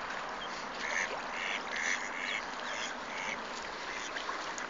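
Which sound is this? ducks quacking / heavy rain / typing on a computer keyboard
ducks quacking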